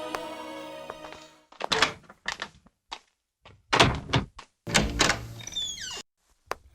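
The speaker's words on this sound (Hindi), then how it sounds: "जाओ दरवाजा खोलो" A door is opened with a series of dull thunks and knocks, a wooden clunk, a heavier slam-like bang and some scraping, spread irregularly over several seconds at close range with no talking.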